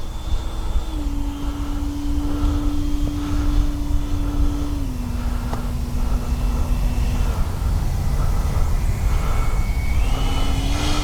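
A Taft Valkyrie 90mm RC jet plane flies nearby, its steady turbine whine holding a sustained tone that steps down in pitch and later rises, over a broad continuous roar at fairly loud level.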